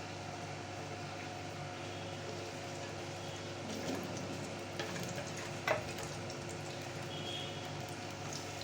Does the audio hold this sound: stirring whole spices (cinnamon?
yes